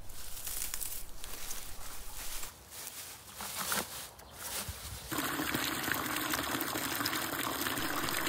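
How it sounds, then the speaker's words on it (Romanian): Water poured over young nettles packed into a 20-litre bucket, a gushing, splashing stream with uneven surges, then a steadier, brighter flow as the bucket fills. "turnăm apă peste ele până aproape să umplem găleata"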